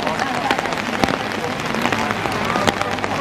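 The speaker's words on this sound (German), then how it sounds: "Ich hoffe nur, es hört dann auf mit Regnen." Rain falls steadily outdoors, a dense even patter of drops on surfaces with a few louder splashes, close and constant throughout the short stretch.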